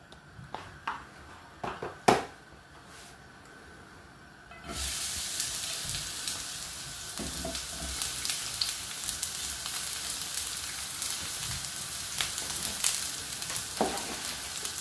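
Pumpkin, corn, celery and peppers hit a hot pan and break into a loud, continuous sizzle and frying hiss, with occasional stirring scrapes and clinks. The first few seconds hold only quieter handling knocks.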